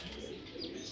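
Racing pigeons bred from a Netherlands line coo softly in a continuous low murmur, with a steady loft background and no voices.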